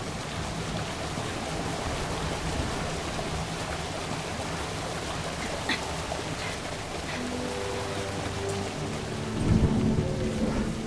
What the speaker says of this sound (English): The rain is messing with our health, unfortunately.